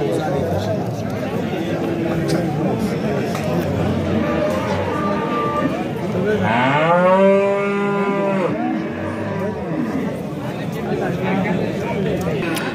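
At a livestock market, cattle moo loudly and close by, one drawn-out low bellow rising above a steady crowd hubbub while people talk nearby.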